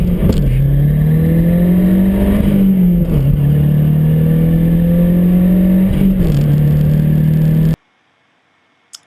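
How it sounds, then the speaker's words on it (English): Mazda MPS turbo car at absolute full boost with a faulty turbo, a loud sustained engine drone with a steady tone that dips and recovers twice, cutting off abruptly near the end into silence. "It was making a strange sound under absolute full boost."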